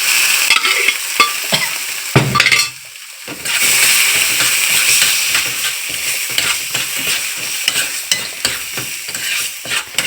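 Hot oil fries in a pan with a loud, continuous sizzle, broken by stirring clatter and a brief dip partway through.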